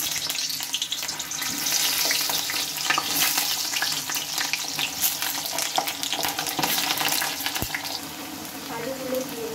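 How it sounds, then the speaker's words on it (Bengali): Potatoes fry in hot oil over a full-high gas flame, left over from frying eggs, producing a loud, steady crackling sizzle close up, dotted with spatula scrapes and turning sounds. "ওই তেলে কিন্তু এখন আমি আলুগুলোকে ভালোভাবে ভেজে নেব"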